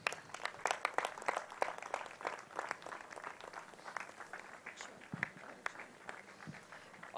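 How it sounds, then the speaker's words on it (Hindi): Faint, distant audience applause at an Indian classical music festival honouring a performer, with irregular clapping rippling through a large hall and thinning toward the end. "बहुत जोरदार तालियां।"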